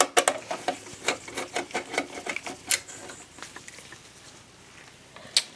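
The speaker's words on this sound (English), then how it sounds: "remove three screws, two screws right here in the back side for the remove the power supply." Screws are backed out of the power supply at the rear of an Acer Veriton X275 desktop case. Rapid rattling clicks and ratchet-like ticks come in a quick irregular run, close and crisp, then thin out.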